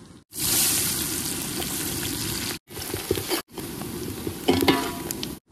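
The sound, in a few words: onions frying in hot oil for village-style chicken curry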